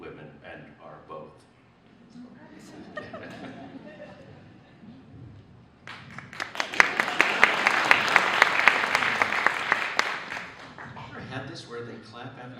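A literary reading audience bursts into applause after a talk passage, a loud swell of clapping rising abruptly and fading after several seconds, with speech before and after.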